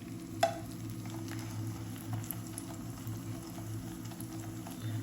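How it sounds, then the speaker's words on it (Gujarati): Potato-poha puri shallow frying in a little oil, a steady low bubbling sizzle running throughout with a brief sharp tick early on, close and fairly quiet. "તેલ મૂક્યું છે પણ મેં તમને કીધું એ રીતે હું ડીપ ફ્રાય નહીં કરું, સેલો ફ્રાય કરીશ"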